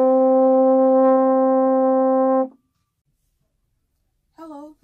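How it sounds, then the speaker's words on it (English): A French horn sounds one loud, steady sustained note for about two and a half seconds, followed by silence and then a short, softer second tone near the end. "Today I'm going to introduce you to how to play the French horn."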